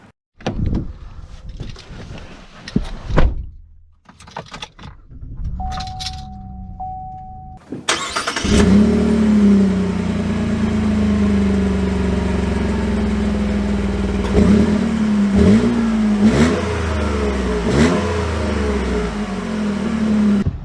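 A 2022 Chevy Colorado ZR2 V6 starts up with a few clicks and a sharp crank, then settles into a steady, close engine drone that rises and falls with revs as it drives off.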